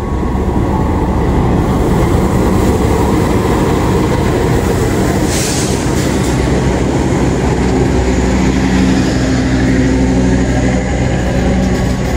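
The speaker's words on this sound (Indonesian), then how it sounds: "Kereta api Argo Semeru dari Jakarta Gambir tujuan Surabaya Gubeng masuk di jalur 3 stasiun Kutoarjo." The Argo Semeru passenger train from Jakarta Gambir to Surabaya Gubeng, hauled by locomotive 206-107, rolls into track 3 at Kutoarjo station with a loud, steady rumble of wheels and engine that fills the whole stretch.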